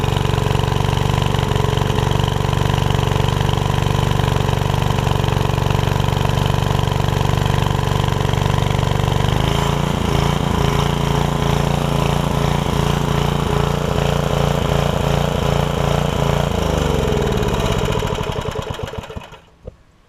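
A Briggs and Stratton 5hp generator engine runs steadily under load, a loud, continuous drone with its pitch shifting partway through, before it cuts out and winds down at the end.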